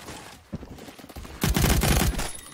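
A SCAR PDW fires a rapid burst in the online shooter game Phantom Forces, sudden dense gunfire erupting after quieter game sounds and lasting about a second, loud and close.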